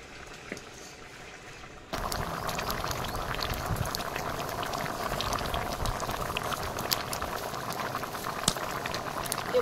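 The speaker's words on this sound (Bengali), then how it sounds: "এদিকে আলু মটরের তরকারিটা হয়ে এসছে, দারুণ ফুটছে টকবক করে।" Potato and pea curry boiling hard in a pot, a dense, steady bubbling and popping that starts quietly and then swells to a loud, continuous simmer close by.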